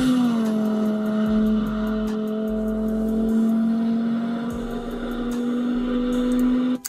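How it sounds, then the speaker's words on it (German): An Audi S2 Avant idles steadily with a low, constant engine drone. Deep thumps and a faint clatter occur now and then, and no one speaks. "Mann, der Sound ist zu krank. Das Auto ist so geil."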